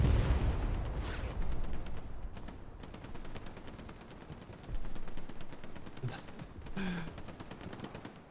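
Rapid automatic gunfire from a video game battle rattles on in dense, continuous bursts, with sharper individual shots and brief swells standing out against a steady background din of combat.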